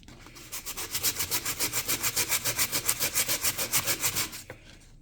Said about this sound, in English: I'm going to get a little more aggressive with the sanding here though.